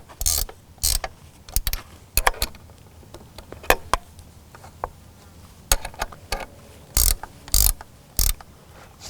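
Mechanical clicks and ratcheting bursts from a camper trailer's support leg being wound down onto uneven ground, scattered irregular clatters at close range with quiet pauses between, no talking.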